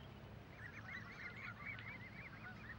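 Canada geese honk repeatedly in a rapid, overlapping chorus, fairly distant and faint over a low background rumble, with no voices.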